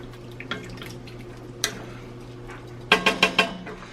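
Beef stew being stirred in a cast iron skillet, soft scraping and a few clinks early on, then a quick burst of four sharp metallic knocks of a utensil against the pan near the end.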